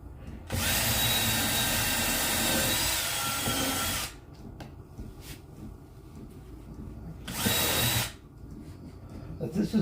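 A small power drill bores holes in wood in two loud, steady whining runs, the first about four seconds long and the second shorter, with quieter handling noise between them.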